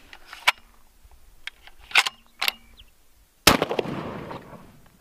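A single sharp, loud AWM sniper rifle shot bursts out at close range, followed by a long rumbling echo, with scattered smaller clicks and taps from handling the rifle before it.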